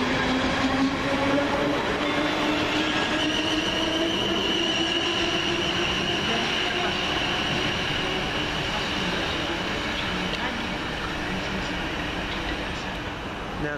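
A South Western Railway train at Southampton Airport Parkway station, probably the Weymouth service, rolls steadily and loudly through the whole stretch, with rising and falling motor tones and a soft, continuous rumble of wheels on the track.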